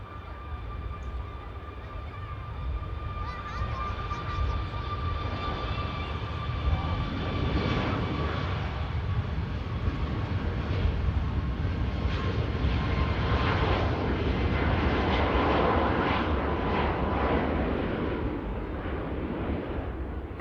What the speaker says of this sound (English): Ryanair 737 MAX 8200, just quietly rolling down the runway there.